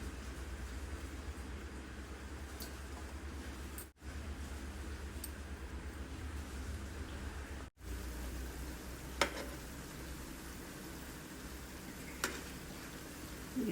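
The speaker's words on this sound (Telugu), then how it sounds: "వాటిని అప్పాల్లో ఒత్తుకుని నూనెలో డీప్ ఫ్రై చేసుకుంటే" Jaggery appalu sweets deep frying in hot oil give a steady, dense sizzle that hisses on close and continuous, broken by a couple of brief dips and a few faint clicks, with no voices.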